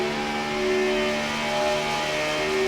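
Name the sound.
race car engines from the video game iRacing at Daytona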